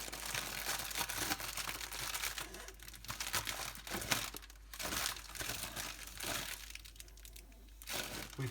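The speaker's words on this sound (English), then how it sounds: "Ziploc bag." A Ziploc plastic bag being handled and crinkled, steady close-up rustling and crackling with bursts of louder crunching throughout.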